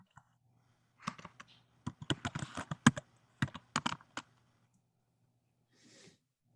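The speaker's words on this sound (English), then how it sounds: "Who's typing?" Quick bursts of computer keyboard typing, crisp clicking keystrokes in clustered runs with short pauses between, close and fairly quiet, then a faint trailing rustle.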